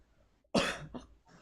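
A person coughs once, close to the microphone, as a single sharp burst with a short second cough after it, set against a quiet room.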